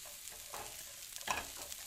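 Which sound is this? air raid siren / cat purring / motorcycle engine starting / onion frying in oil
onion frying in oil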